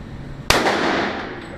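A single sharp gunshot at an outdoor shooting range, one loud crack followed by a fading echo, heard alone with no talk.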